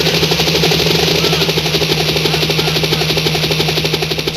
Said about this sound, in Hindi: पायलट हेलीकॉप्टर नीचे ला